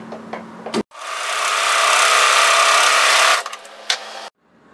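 An overlocker runs one continuous fast burst of mechanical whirring while sewing the top seam of a cardigan, bracketed by quieter clicks and handling sounds before and after.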